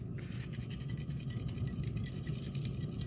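Sharp tool scraping the wrapper off an 18650 lithium battery cell taken from a modem pack, a faint, steady, close scratching rasp with no voices.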